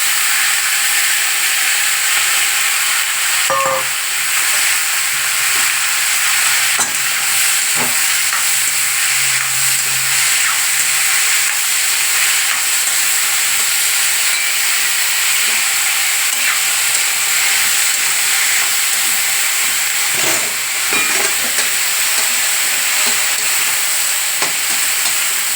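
Chopped carrots sautéing in a hot pan give a steady, loud, hissing sizzle that runs unbroken throughout, with no talking.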